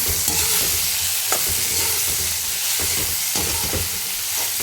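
Ground coriander and cumin frying in hot oil for a fish curry, a loud continuous sizzle with stirring scrapes and clicks recurring through it.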